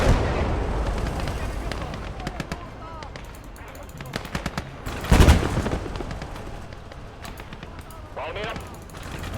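Artillery and machine-gun fire in a World War II battle game, rapid bursts of close shots with a heavy booming blast midway, while a voice and other chatter can be heard over the gunfire.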